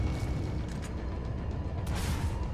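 A rocket launcher explosion in the video game Resident Evil 4, a muffled rumbling boom with mechanical clatter that lingers over a couple of seconds beneath game background noise.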